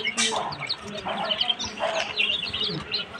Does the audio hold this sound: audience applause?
no